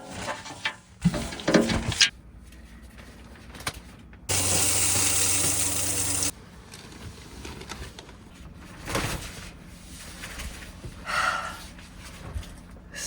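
Water from a portable hot-water shower in a camper van runs steadily for about two seconds amid quieter rustling and splashing, close and fairly loud against a hushed background.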